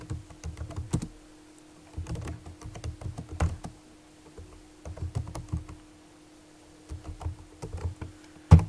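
Typing on a computer keyboard, heard as close bursts of rapid key clicks separated by short pauses, with a steady faint hum underneath and no talking.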